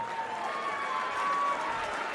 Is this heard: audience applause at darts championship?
yes